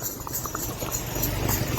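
Steady clip-clop of two mares' hooves walking slowly at an even pace over a continuous low rumble, no voices.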